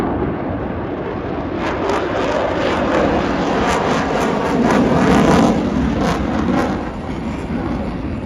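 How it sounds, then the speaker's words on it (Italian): An F-35 fighter jet roars overhead at an Italian Air Force airshow, its loud engine swelling to a peak and then easing off slightly, with no voices. "F-35 è l'aereo più avanzato attualmente in dotazione dell'aeronautica militare."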